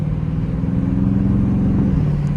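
A Dodge Scat Pack driven in manual mode in fourth gear, its engine giving a steady low drone from inside the cabin, holding an even pitch with a slight shift near the end.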